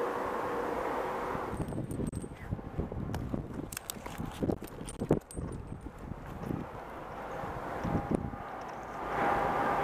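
Strong wind gusts and buffets around a climber high in a white pine on a cold winter day, a roaring rush with sharp bumps and knocks from close by, no talking.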